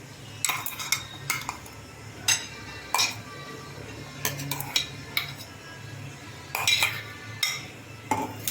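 A spoon scrapes and clinks against a bowl as peas are stirred into mashed potato, with irregular clattering bursts separated by short pauses and a low background hum.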